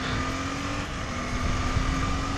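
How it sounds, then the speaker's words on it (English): A Ferrari sports car drives by at a track day, its engine a steady, fairly close roar that swells slightly toward the end, with no talking. "Damn, that's a nice car. Ferrari? I think it's a Ferrari."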